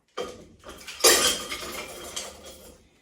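Metal cooking utensils clatter and clink as they are dropped into a Roseville pottery crock in a farmhouse kitchen: a short burst of jangling contacts, close and fairly loud, with no talking.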